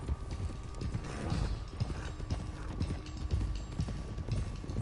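Horse hooves clip-clop steadily in Red Dead Redemption 2 as horses are ridden toward Clemens Cove, a continuous rhythmic trotting with faint creaking tack and gear, close and moderately loud.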